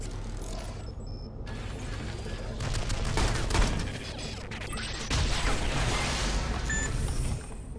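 Turret fire in Shadow Complex Remastered: sustained rapid shots and mechanical clatter with crashing impacts, loud and continuous for the whole stretch, with no talk.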